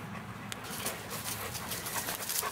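A dog whimpers and pants close by, with quick breathy pants over a steady indoor background hum.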